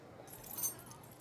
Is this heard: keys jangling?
yes